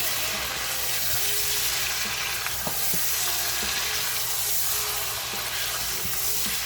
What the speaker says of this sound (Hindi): अब इसमें मैं चिकन ऐड कर रही हूँ। इसको भी अच्छी तरह से हमें फ्राई करना है।